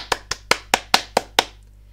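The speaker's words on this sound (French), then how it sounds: "tout le monde applaudit" Seven sharp, evenly spaced claps, roughly five per second, ring out clearly over a steady low hum and then stop.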